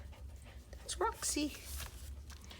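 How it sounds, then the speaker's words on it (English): A dog pants softly in quick breathy bursts nearby, with a brief whimper, while a person speaks briefly. "You hear that panting? That's my dog."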